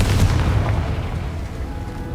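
A Confringo fire spell blasts in the Hogwarts Legacy video game, a loud, deep booming explosion at the start that rumbles on and slowly fades, with no voices.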